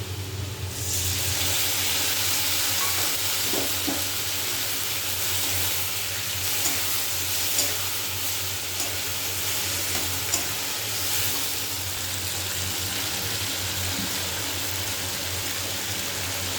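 Mustard, garlic and dry chili paste frying in a pan, a loud steady sizzle and hiss with occasional stirring scrapes throughout.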